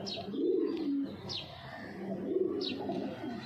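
Close, low cooing comes from a ringed male giribaz pigeon, given as two or three rolling throaty phrases with short sharp higher notes in between, over quiet background noise.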